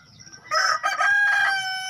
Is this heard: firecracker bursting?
no